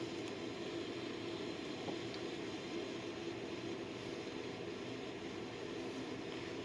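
Boeing 787 engines spooling up during auto start, a steady loud broadband jet roar and hum that holds constant throughout, heard from inside the cockpit.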